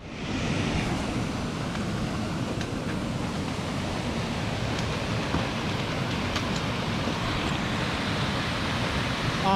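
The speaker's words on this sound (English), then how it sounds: "I have never seen that much water coming out of that fault." High water rushing out of a dam outflow at the DeBruce fly fishing club in late afternoon, a loud, steady broadband roar of pouring, churning water that holds constant throughout.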